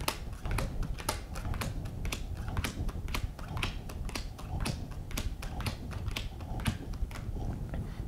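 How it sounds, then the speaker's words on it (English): Cards dealt for the Bigfoot vs Yeti card game, ten to each player, make a quick, steady run of crisp flicks and snaps close by, with no talking. "And then you deal 10 cards to each player."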